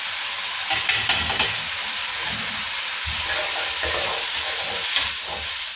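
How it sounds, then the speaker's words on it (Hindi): Chicken with salt, red chilli and garam masala fries for yakhni pulao, a steady loud sizzle and hiss broken by repeated scraping stirs in the pan. "चलो इसको हल्की सी जरा भुनाई करते हैं।"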